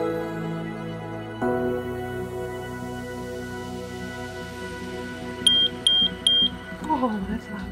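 A smoke alarm under test gives three loud, piercing beeps in quick succession near the end, over steady background hum and some voice activity earlier.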